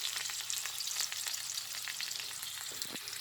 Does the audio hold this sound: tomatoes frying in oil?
yes